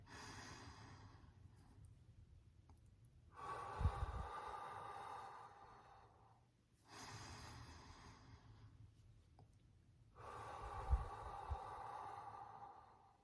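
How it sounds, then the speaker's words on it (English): Long, slow, deep breathing: about three drawn-out breaths, each a soft, airy rush lasting several seconds, separated by short quiet pauses, close and fairly faint. "Long, slow, deep breathing calms down your nervous system, calms down your heart, calms down your brain."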